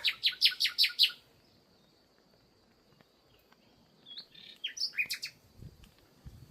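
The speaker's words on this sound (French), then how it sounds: "Il chante pour vous les amis, ce petit oiseau." A small bird sings a quick run of bright, repeated chirps, pauses, then returns with a few more twittering notes nearby in a quiet outdoor setting.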